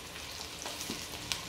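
Gizdodo, gizzards and plantain seasoned with curry and thyme, sizzles in a pan with a soft steady hiss and a faint stir or clink near the end; brief and fairly quiet, with no voices.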